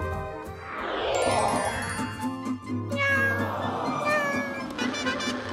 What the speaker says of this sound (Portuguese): Ai, um gatinho!